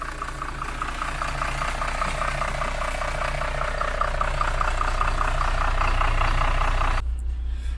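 Large 7.5-litre Iveco Cursor diesel engine idling in a bus being converted into a camper, a steady close rumble with a rhythmic mid-range knock, running alone and cutting off near the end.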